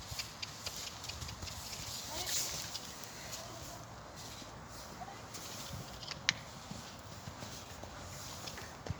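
A horse gallops at a riding school during jumping practice, its rhythmic hoofbeats faint and somewhat distant over steady outdoor background noise, with voices now and then.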